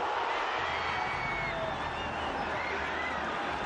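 A football crowd at the Cork City vs Glentoran Setanta Sports Cup final roars at a near-miss shot, a broad continuous cheer filling the stadium, loud and sustained throughout.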